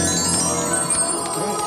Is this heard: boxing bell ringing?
yes